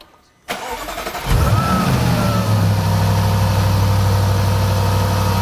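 Jaguar XJR with a supercharged 5.0-litre engine cranking briefly and then catching, settling into a loud, steady, close idle with a deep rumble and faint supercharger whine.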